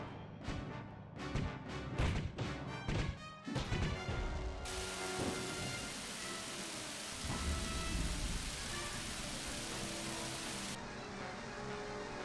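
Rain and thunder in the video game Superman: Shadow of Apokolips: a few sharp, booming thunder cracks open, then steady hissing rain settles in and continues evenly, fairly quiet and free of talk.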